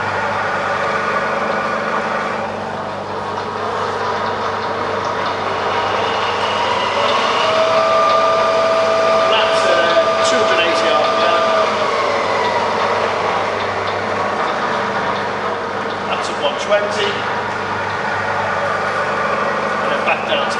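A Bridgeport milling machine with a 48-inch table starts up and runs in low range, giving a quiet, steady mechanical hum with faint whining tones, heard in a workshop.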